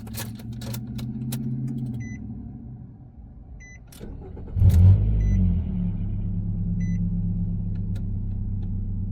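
A 2013-2017 Nissan NV1500 van is started with a newly programmed key: a few clicks and chimes, then the starter catches and the engine fires with a loud burst before settling into a steady close idle rumble.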